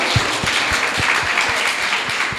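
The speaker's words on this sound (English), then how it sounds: "A round of applause for her." An audience claps steadily in a dense, even wash of applause, with a few sharper individual claps standing out.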